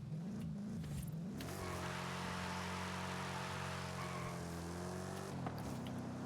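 A 1995 Ford Mustang in Forza Horizon 5 launching from a standstill, its engine rising into a loud, steady rev that holds as it pulls away, then drops at the end.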